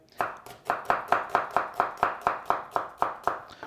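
A knife chopping red onion on a board for fresh salsa at a food showcase, with about thirteen crisp, evenly spaced chops, close and clear, no voices.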